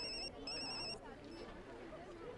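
A telephone rings in two short electronic bursts, quiet and slightly distant, with people talking underneath.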